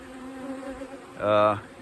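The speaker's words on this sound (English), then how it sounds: "just let all the rest of these bees flying around come in" A swarm of honey bees flies around on a chilly day, a close buzzing drone that swells sharply louder for a moment near the end as bees pass by.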